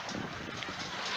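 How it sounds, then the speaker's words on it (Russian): A pleasure boat passes at sea off Vityazevo beach on the Black Sea coast, heard as a faint, distant engine hum blended with steady wind noise. "А вон еще один прогулочный катер едет."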